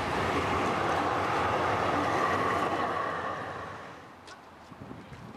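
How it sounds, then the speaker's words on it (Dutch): Trams and heavy traffic on a Vienna street, a steady loud rumble of rolling rail cars and engines that eases off toward the end, leaving quieter street noise with a few faint clicks. "En allerlei soorten trammetjes."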